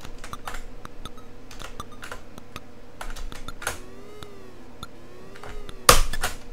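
Computer keyboard keys clatter while someone plays the MSX game Konami Ping Pong, irregular quick taps near the microphone with soft game beeps underneath and a louder hit near the end.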